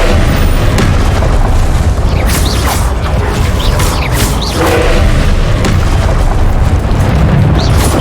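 Spell blasts in the video game Hogwarts Legacy, loud booming explosions and crashing bursts one after another in dense, continuous combat, with short whooshes between the hits.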